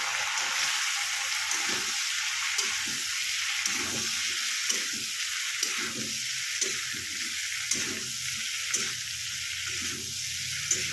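Bhetki fish masala frying with a loud continuous sizzle after a splash of water, punctuated by regular scraping spatula strokes in the pan.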